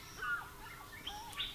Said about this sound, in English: Crested barbet.